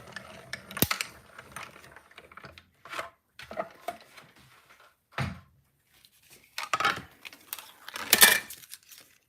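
Paper sandwiched between die-cut plates being cranked through a manual die-cutting machine for papercraft, giving a series of short mechanical clicks, rasps and ratcheting bursts, close and fairly quiet, with no talking.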